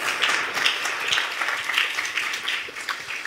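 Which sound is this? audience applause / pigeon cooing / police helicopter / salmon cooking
audience applause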